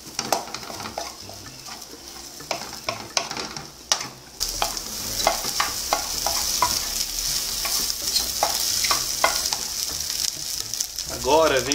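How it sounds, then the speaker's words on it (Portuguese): Mortadella sizzles steadily in a hot pan, with repeated scraping and clinking of a utensil stirring against the metal, close and busy. "Vou fritar minha mortadela."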